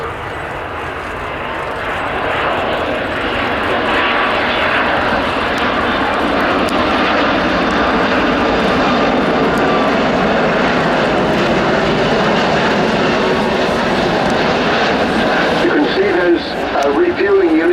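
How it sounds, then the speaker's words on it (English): Airbus A330 airliner with upswept wingtips and underwing refuelling units passing at an air show, a steady loud broadband engine roar that builds over the first two seconds and holds, with commentary talking over it throughout. "an Airbus A330 with the upswept wingtips that have become so common these days"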